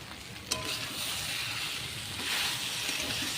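Potatoes and taro fry in a pan with chili powder, giving a soft, steady sizzle and hiss, with one brief clink near the start.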